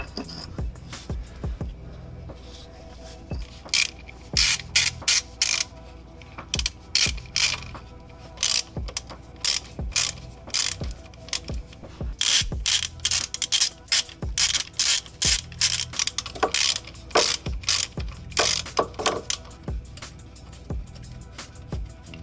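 Ratchet wrench clicking as it turns a bolt on the accessory belt system of a BMW N54 engine (135i/335i), with repeated bursts of sharp, close ratchet clicks and pauses between strokes, no talking.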